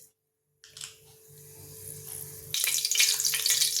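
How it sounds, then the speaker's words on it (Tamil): Fenugreek seeds drop into hot sesame oil in a kadai, giving a soft sizzle that suddenly swells into a loud, continuous hiss of frying close by. "வெந்தயம் இப்போ நல்லா வெடிச்சிட்டுங்க, கருக விட்டுறக்கூடாது"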